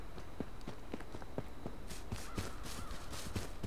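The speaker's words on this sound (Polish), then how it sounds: "A, znowu wrony słyszę." Crows caw now and then in the background of the H1Z1 game world, heard against a steady ambient hum. Close, regular footstep-like thuds from a character moving run through the scene.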